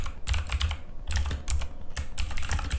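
Someone types on a computer keyboard in quick bursts of clicky keystrokes, pausing briefly between groups, close and clear with no talking.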